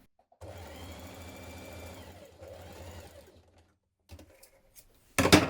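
A sewing machine stitches darts in dress sleeves in a steady close run of about three seconds that slows and stops, followed by a few brief handling taps and a sharp louder rustle at the end.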